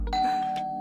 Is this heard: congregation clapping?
no